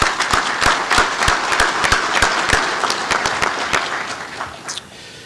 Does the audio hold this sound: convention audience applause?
yes